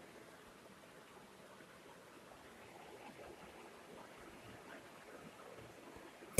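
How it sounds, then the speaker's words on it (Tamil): Two cups of water pour into a pressure cooker holding soaked basmati rice and mint, a soft, steady trickling splash that runs for several seconds before a sharp knock at the end. "இப்போ 2 கப் தண்ணி ஆட் பண்ணிக்கலாம்."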